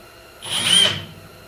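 A drill boring a hole through very thick steel on a shaping machine: a short whining burst swells for about half a second and then fades, heard alone at close range.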